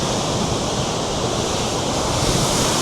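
Strong wind roars across an open Lake Superior shoreline on the Chapel Rock hike in Michigan's Upper Peninsula, a steady, loud broadband rush mixed with crashing surf, continuous for the whole stretch with no talking.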